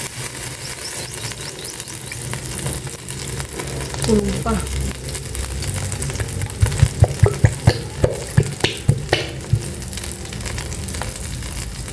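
Ketchup hits a hot frying pan and sizzles loudly, followed by a run of rhythmic scraping and tapping from stirring, with a short spoken phrase mixed in.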